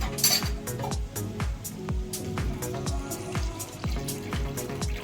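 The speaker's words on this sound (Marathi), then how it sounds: "आता ह्यामध्ये आपण पाणी घालून घेऊया" Water goes into a pan of green pea curry, with splashing and clinking against the pan and a utensil moving through the mixture, close up and continuous, without talk.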